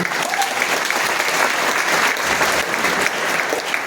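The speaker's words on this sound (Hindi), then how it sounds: "आप तो बजा लो ताली" A crowd claps steadily and loudly throughout a business seminar talk in Hindi, a dense continuous wash of applause with no pauses.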